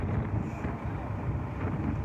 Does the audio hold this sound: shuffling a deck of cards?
no